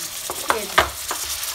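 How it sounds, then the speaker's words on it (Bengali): Chicken and vegetables cooking in a pan, with a utensil scraping and stirring through a light sizzle in a few short, distinct strokes, close up and without talk. "এখন এটা যাবে এই যে কিছুক্ষণ ভেজে নেবো, কিছুক্ষণ ভেজে নিতে হবে।"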